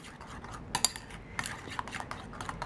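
A metal utensil clinks and scrapes against a bowl while lime juice is stirred into a fish taco mixture, quiet close-up taps and rubs in an irregular rhythm with a few sharper clinks.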